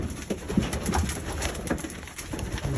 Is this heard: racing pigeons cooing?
yes